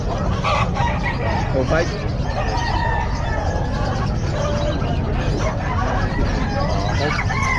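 Gamecock rooster, an 11-month-old Pumpkin Sweater at the Bocaue pet market, crows and clucks amid a busy crowd of other birds, with people talking steadily nearby.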